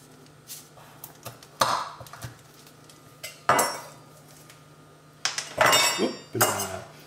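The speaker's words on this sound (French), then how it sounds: "Les noisettes, on va essayer de les couper en 2." Hazelnuts are cut in half with a knife, giving a few scattered close clicks and clinks of the blade and small knocks on a hard surface, separated by quiet gaps.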